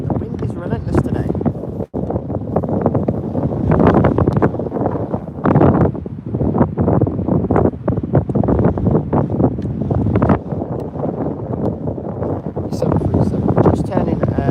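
Strong, relentless wind at Birmingham Airport buffets the microphone with a loud, continuous roar and gusting rumble, while a voice talks over it.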